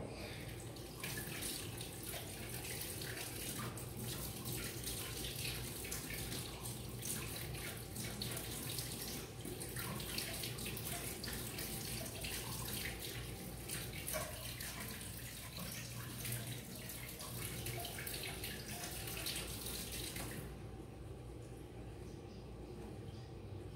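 Filtered water runs steadily from a tap while kefir grains are rinsed, a continuous close splashing hiss that stops near the end.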